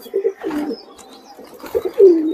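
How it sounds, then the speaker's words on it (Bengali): Desi pigeons coo loudly and close by in two distinct bursts of deep, rolling calls separated by a short pause, with no voices present. "আমরা দেখতে পাচ্ছি পায়রা বিভিন্ন পায়রা আছে এখানে"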